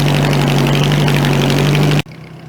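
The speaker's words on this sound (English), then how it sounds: "That is one big log. That thing is pulling hard." A compact tractor engine labours hard under load while pulling a big log, a loud, steady, close drone that cuts off abruptly near the end.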